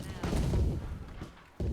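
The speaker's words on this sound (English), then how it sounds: "Got cannons going off. Got musket fire." Cannons and musket fire from pirate-ship animatronics in the Planet Coaster 2 theme-park game, a rapid cluster of loud booming and crackling shots followed by a brief lull and another blast.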